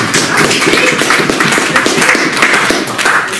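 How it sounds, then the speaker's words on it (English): An audience at a political branch meeting in Leeds breaks into loud, sustained clapping, dense and continuous for a few seconds, close and filling the room. "the only time you've clapped."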